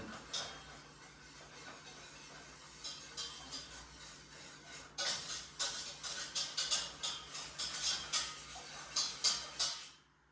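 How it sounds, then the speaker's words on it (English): A whisk stirs homemade infant formula (lactose powder and beef gelatin) in a saucepan over medium heat, giving a quiet, steady run of light rhythmic ticks and clinks against the pan that grow busier and louder toward the end. "Get your whisk and stir all that in."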